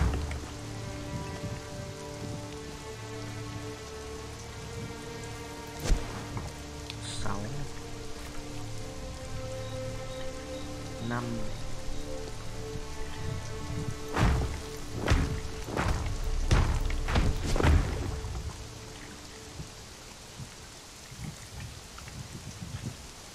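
Steady rain falls in Conan Exiles, a soft broadband hiss over a low background drone, broken by several sharp thumps and knocks that cluster near the end before the patter fades out.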